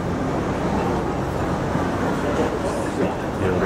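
A train rumbles past in Hong Kong, a loud, continuous roar of rail and traffic noise with a voice speaking briefly over it.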